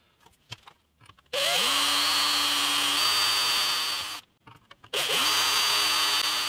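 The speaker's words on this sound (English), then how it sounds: "now I've just got another 22 holes to drill" A power drill bores holes in a bass guitar body: two long, loud, steady whines spin up after short bursts of handling noise, separated by a pause.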